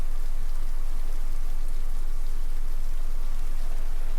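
Steady rain falls without a break in the video game The Lighthouse, a dense even hiss of drops on surfaces filling the whole scene with no voices over it.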